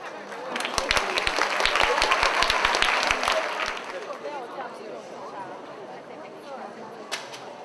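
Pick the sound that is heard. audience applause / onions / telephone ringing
audience applause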